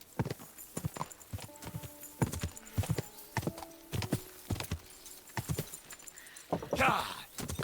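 Horse hooves in Kingdom Come: Deliverance 2, galloping off-road in a rapid, uneven clip-clop rhythm that stays close and fairly loud, with brief speech and a snort near the end.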